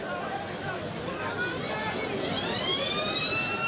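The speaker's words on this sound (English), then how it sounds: "And there's the siren" A siren ending the quarter at a 1990 rugby league match rises and wails in the distance over a steady crowd roar, its tone sweeping upward near the end.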